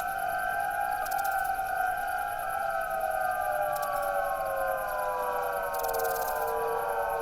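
A synthesized singing-bowl tone in the Ambitron online music game rings with long sustained, overlapping tones drenched in reverb and delay, slowly gliding downward in pitch, with brief bursts of high hiss.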